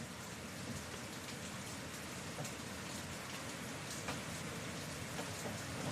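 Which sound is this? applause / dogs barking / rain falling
rain falling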